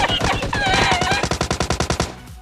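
Rapid automatic video game gunfire in a long run of evenly spaced shots, loud and close.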